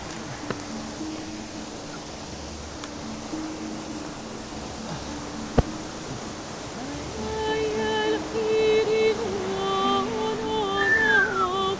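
Continuous rushing wash of a waterfall in Kabylie, steady throughout, with a sharp click midway and tonal hums and whistles rising over the water in the second half.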